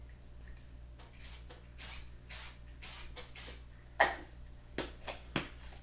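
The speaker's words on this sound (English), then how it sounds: "Now let me put a little bit of spray fix, because this is only our first" Fixative spray applied to a colour-chalk car sketch in short hissing bursts, several close aerosol sprays with brief gaps between them.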